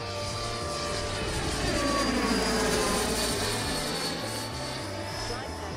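A Blackhorse Viper RC jet plane roars steadily overhead on its maiden flight, a sustained loud whine with slowly shifting pitch, heard outdoors with little break in the sound.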